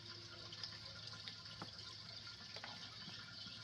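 Water runs from the hose of a collapsible rain barrel, a faint steady trickle and splash with a few small drips and taps, heard alone at low level.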